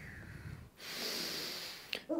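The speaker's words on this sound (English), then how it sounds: "Breathing here." Steady breathing during a vinyasa yoga practice: a long, audible exhale lasting over a second, followed by a brief sharp intake, quiet and close.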